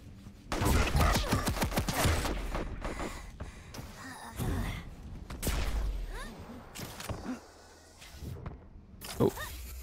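Heavy machine gun fire in an arena shooter match of Quake Champions: a dense, rapid stream of shots, loudest in the opening seconds, followed by scattered impacts and game noise, with faint commentary.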